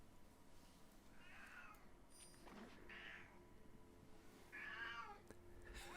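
A pet cat meows several times in short, faint calls against a steady low room hum, with no voices over them.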